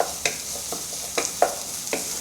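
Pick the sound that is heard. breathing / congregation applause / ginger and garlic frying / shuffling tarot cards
ginger and garlic frying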